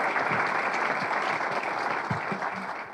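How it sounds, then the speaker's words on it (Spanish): Applause at a press conference, a steady wash of clapping that holds fairly evenly for about three seconds before easing slightly, with a few low thumps mixed in. "los aplaudimos"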